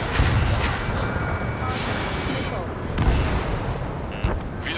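Missile launches and blasts in the Ace Combat 7: Skies Unknown flight game, a dense roaring rumble of jet and artillery-like booms with sharp impacts near the start, around three seconds and near the end, continuous and loud.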